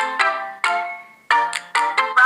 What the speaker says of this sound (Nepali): मैले यहाँ नि चाहिँ अर्को नम्बरबाट मेरो मोबाइलमा फोन कल लगाउन गइरहेको छु